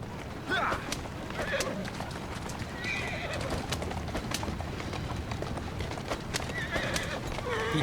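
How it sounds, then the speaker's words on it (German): In the video game Assassin's Creed Syndicate, a horse-drawn carriage clip-clops steadily along a street, with a horse whinnying and faint birds and ambient bustle behind. "Ich brauche eine Kutsche, und zwar eine relativ flotte Kutsche, eine relativ sympathische Kutsche, eine Kutsche wie diese hier."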